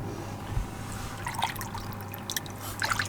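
Water trickles and drips softly from a homemade natural filter feeding an IBC bio pool, a weak, uneven flow with scattered small splashes and bright droplet sounds, steady and fairly faint throughout.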